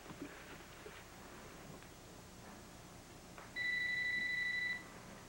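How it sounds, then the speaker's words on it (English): A phone ringing, a steady two-tone electronic trill lasting about a second over a quiet room background, no voices. "That's your phone. You want me to get it?"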